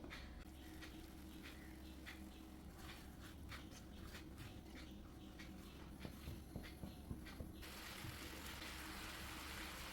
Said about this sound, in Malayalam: ഇതുകൂടി ഒന്ന് ഒഴിച്ച് കൊടുത്തിട്ട് നമുക്ക് ശർക്കര ഒന്ന് മെൽറ്റ് ചെയ്തെടുക്കാം